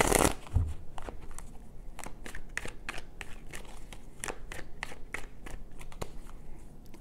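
Tarot cards being shuffled by hand, a steady run of crisp riffling snaps and flutters repeating close up, with a soft thump at the start and no talking.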